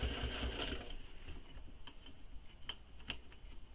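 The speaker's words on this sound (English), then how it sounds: "I'm just backstitching on top of the previous stitches" A sewing machine backstitching over earlier stitches on a bag, with a faint, rapid mechanical whir at first that settles into quieter, scattered ticks and clicks.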